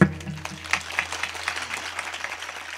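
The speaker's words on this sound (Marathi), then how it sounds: "तुम्ही बघितलं का टाळ्या कुठं वाजल्या फक्त." Audience at a kirtan in Wardha clapping, a brief ragged burst of applause that starts sharply and then tapers off, with a low hum beneath it.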